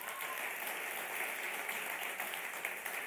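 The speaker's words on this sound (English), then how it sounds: "I was basically expecting a huge round of applause." A large audience at a youth forum finale gives a steady round of applause, a dense wash of many hands clapping continuously throughout, moderately distant and without talk.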